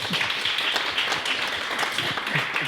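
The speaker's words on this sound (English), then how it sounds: "let's have a big applause for her" Audience applauds at a formal event opened by a vice consul, with a steady wash of clapping hands that keeps a constant level throughout, with no voices over it.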